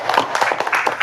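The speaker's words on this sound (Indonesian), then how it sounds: "Tepuk tangan lagi." A quick, loud burst of clapping comes from students in an Islamic religious education classroom, a handful of sharp overlapping claps close by.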